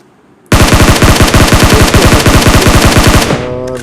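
Sustained automatic gunfire in a battle video game, a loud, steady rapid burst of evenly spaced shots lasting about three seconds before cutting off, with a brief tonal tail afterward.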